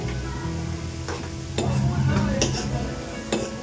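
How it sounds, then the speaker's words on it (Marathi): Onions sautéing until brown for a spicy Agri-style chicken masala, a close crackling sizzle with scraping stirs and occasional clinks of a spoon against the pan. "हे कांदा परतावून झाल्यावर कांदा ब्राऊन व्हायला लागलाय बघा"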